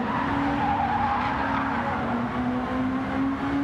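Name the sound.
race car tyres screeching, video game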